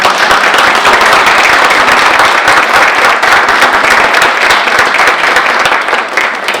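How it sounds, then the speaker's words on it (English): An audience at a university panel event on stories from Michigan State's first Black graduates claps loudly and continuously for the panelists, a dense, close round of applause that fades a little near the end. "We give them a round of applause."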